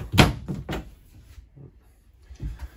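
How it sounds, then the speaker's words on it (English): Shower door in a 2022 Wildwood 24RLXL travel trailer RV swinging and magnetically latching, a few sharp clacks and thunks followed by softer knocks, close by and with no talking. "This door does magnetically latch both closed and open."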